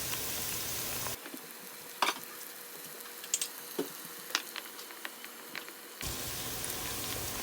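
Garlic frying in oil for stir-fry noodles, a steady close sizzle with scattered small pops and spatters that soften briefly in the middle, no talk.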